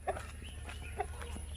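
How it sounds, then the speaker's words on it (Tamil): White hen clucking softly on a farm, a few short clucks spread across the clip over a steady low hum, fairly faint. "வெள்ளைக்கோழி வந்துருச்சு."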